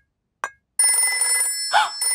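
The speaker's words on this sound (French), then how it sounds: "Oh, le téléphone réservé aux urgences." An emergency telephone rings in a Peppa Pig cartoon: one short electronic chirp, a brief pause, then a sustained, bright, tonal ring that warbles and repeats steadily at close range, with no voices.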